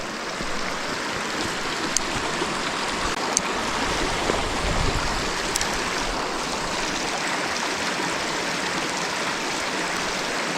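A shallow mountain stream in Vall d'Incles, Andorra, with little water in it, rushes and burbles steadily and close by, an even broadband wash with no talk.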